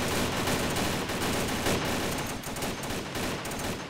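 Rapid gunfire from a squad firing and advancing in the military video game Arma 2, a dense, continuous burst of overlapping shots and automatic fire that stays loud for about four seconds, with no talk.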